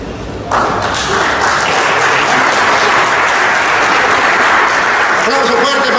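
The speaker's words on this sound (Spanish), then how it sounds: "Aplauso fuerte para estos valientes hermanos" Loud, dense applause from an audience at a religious debate with a priest, bursting in abruptly after a brief lead-in and holding steady and close for several seconds without letup.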